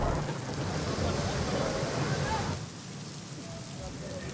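Heavy monsoon rain pours during flooding in Buldhana district, Maharashtra, a steady dense hiss that drops to a lighter, quieter wash about halfway through.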